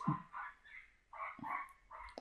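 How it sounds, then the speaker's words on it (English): A dog gives a few faint, short barks and yips, three or four quick bursts at a distance, with no talking over them. "I'll just let it bark for a bit."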